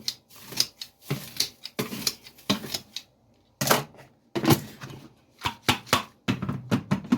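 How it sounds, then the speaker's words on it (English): Ingredients for bunny treats being chopped by hand, a series of irregular sharp knife taps and thumps on a board with short pauses between bursts, close and fairly quiet. "Chop it down some more."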